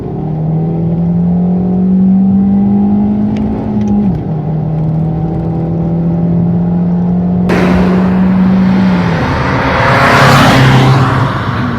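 A Fiat Panda 100hp accelerates hard through the gears, its engine note rising steadily and dropping at each shift, followed by a burst of louder, rushing road and wind noise as speed builds, close and continuous without talk.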